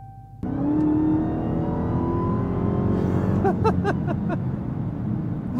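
A Dodge Charger Hellcat King Daytona accelerates at night, its engine rising in a loud, steady drone with climbing harmonics close by, a few sharp tonal chirps breaking in toward the end.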